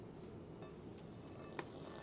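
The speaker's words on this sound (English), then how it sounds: "We're going to add the butter," A soft, steady sizzle of butter frying in a hot cast iron skillet in a pizza oven at about 700 degrees, with a faint clink partway through.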